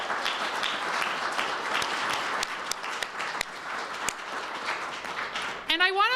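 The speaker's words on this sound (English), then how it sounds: "So let's give them another round of applause." Crowd at a Chicago COVID-19 vaccination event applauding the first vaccine recipients, a steady round of clapping that fades, then a voice starts speaking at the very end.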